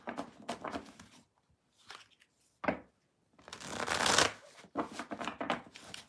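Tarot cards being shuffled in several quick bursts of riffling and slapping, separated by short pauses, close up with no talking.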